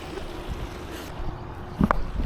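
Water spilling over backyard pond waterfalls makes a continuous close splashing rush, with a brief louder knock near the end.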